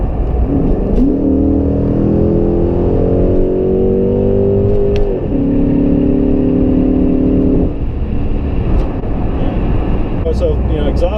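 A 5.7L HEMI fitted with JBA shorty ceramic-coated headers, high-flow catted mid-pipes and Flowmaster mufflers pulls hard on the highway from 60 mph, a loud steady exhaust drone rising in pitch twice, heard from inside the vehicle.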